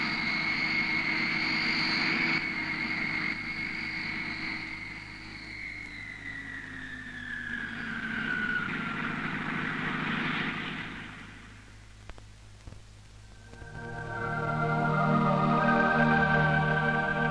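A loud Seahawk jet engine roars and whines, its pitch sliding downward as it lands vertically, then settles into a steady droning hum.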